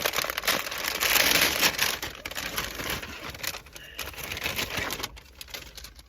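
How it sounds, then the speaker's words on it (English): Crinkling plastic bag handled up close, a busy stream of rustles and crackles that rises, dips and continues unevenly. "let's take this piece out of the bag. Make a little noise."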